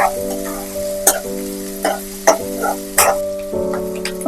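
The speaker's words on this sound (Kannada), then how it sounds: "ಇವಾಗ ಇದು ಚೆನ್ನಾಗಿ ಒಂದು ಬ್ರೌನಿಶ್ ಬರೋ ತನಕ ಚೆನ್ನಾಗಿ ಫ್ರೈ ಮಾಡ್ತಿದ್ದಾರೆ ನೋಡಿ." Ingredients for mango rice fry in a pan until brownish, giving a close, steady sizzle with periodic scraping clatters from stirring and a constant low hum underneath.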